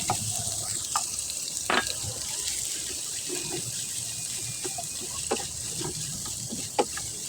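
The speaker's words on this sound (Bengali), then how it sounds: "আর এদিকে পেঁয়াজ ভাজা হয়ে এসেছে" Onions fry in a pan with a quiet, continuous sizzle, broken by scattered clinks and scrapes of stirring and a few splashy liquid sounds.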